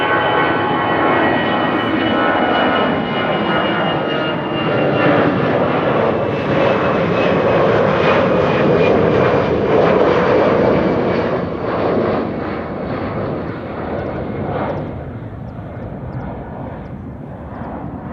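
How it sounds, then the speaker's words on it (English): A twin-engine jet airliner flies past at Amsterdam Schiphol Airport with a loud, sustained engine roar whose pitch slowly shifts as it passes, then gradually fades near the end. "I think I do see a twin jet that has just passed me by"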